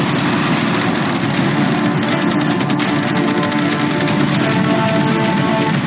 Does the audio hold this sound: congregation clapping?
no